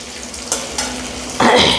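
Ground garam masala with cardamom, cinnamon and cloves sizzling in a hot pan while being stirred, a steady frying hiss with a few scraping knocks and a louder burst of sizzle near the end.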